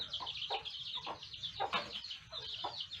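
Several chickens cluck in quick, overlapping bursts, fairly close, with a soft hiss of background noise and no talking.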